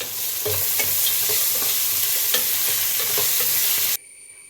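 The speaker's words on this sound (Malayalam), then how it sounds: "സവാള ഒന്ന് വാളാൻ ഇത്തിരി ഉപ്പിട്ട് കൊടുക്കാം." Onion frying with a little salt in a pan for a Kerala chicken curry, a steady loud sizzle under repeated scraping stirs, ending abruptly near the close.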